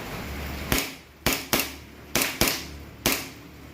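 A Kimber Warrior pistol fires six sharp, close cracks in an uneven rhythm, each one snapping out and fading quickly, with no voices in between.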